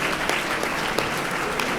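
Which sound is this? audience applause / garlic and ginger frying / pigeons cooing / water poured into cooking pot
audience applause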